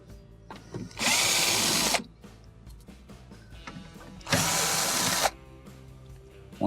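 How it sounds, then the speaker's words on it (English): Power drill removing 5/16 screws from the cardboard machine cover of a Hotpoint refrigerator: two loud whirring bursts of about a second each, separated by quieter handling and ratcheting clicks. "we're going to remove a series of 5/16 screws along the perimeter of the cardboard cover"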